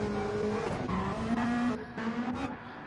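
Pagani GT race car in a GT1 racing video game, engine note loud and close with shifting pitch as it peels away, a brief tire skid sound mixed in.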